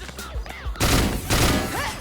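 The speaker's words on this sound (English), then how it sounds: "Damn fireworks." Fireworks burst in the online shooter Let It Die during a team deathmatch: a dense, loud crackling barrage of rapid pops and thumps that runs almost continuously after a quieter opening.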